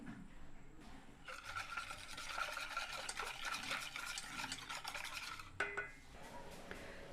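Batter for a honey sponge cake, mixed with oil and milk, gets whisked in a bowl, giving a steady scraping, rasping rhythm for several seconds before it stops, close and alone with no voices.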